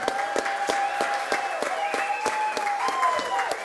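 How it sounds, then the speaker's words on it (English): A crowd at the Hot Chef's Challenge cooking contest at the 2011 Falmouth Oyster Festival applauds steadily for several seconds, dense clapping continuing evenly throughout without a break. "give her another round of applause to try and help ease those nerves this evening"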